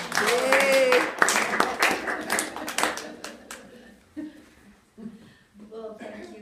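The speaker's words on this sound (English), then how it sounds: "if you can just welcome Jane with a round of applause" Audience in a bookstore clapping for an author, a burst of applause that thins into scattered claps, with cheering voices and talk mixed in.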